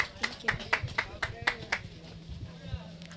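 Scattered clapping from a small audience at a community Wi-Fi launch event, about a dozen separate claps in the first two seconds that then thin out under a murmur of voices.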